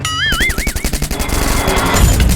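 A loud burst of rapid automatic gunfire in Free Fire, dense repeated shots following a short rising game effect tone at the start.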